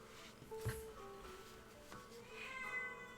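An indoor cat gives faint, short meows, one early and another later, quiet and distant beneath a low room hum.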